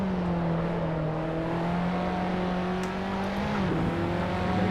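Race car engine in Assetto Corsa's career mode holds a steady, sustained drone under light, careful throttle, with a brief dip and shift in pitch near the end.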